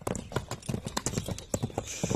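A horse shown off at a stallion and horse market steps back and forth, its hooves clip-clopping in a steady, fairly close rhythm of sharp repeated knocks with no talk over them.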